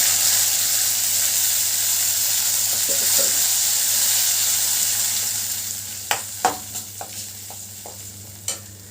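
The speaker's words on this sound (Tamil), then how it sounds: "தக்காளி வெங்காயத்தையும் கரகரன்னு அரைச்சி வச்சுட்டு சேர்த்துறேன்" A coarsely ground tomato-onion paste hitting hot oil in a frying pan, a loud, continuous sizzle that slowly eases, then a run of sharp spoon taps and scrapes against the pan, close by.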